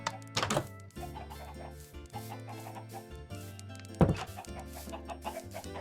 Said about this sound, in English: These poor chickens have been starving for years